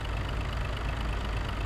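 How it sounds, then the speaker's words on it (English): A truck engine idling in American Truck Simulator, a steady low rumbling drone with constant vibration, loud and continuous with no talk. "That way you can also hear the engine"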